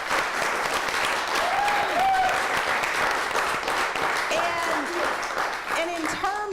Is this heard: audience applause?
yes